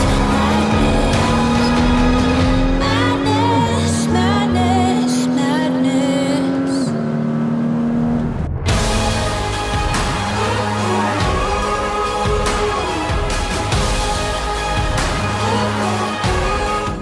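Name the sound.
flat-six car engine in sport mode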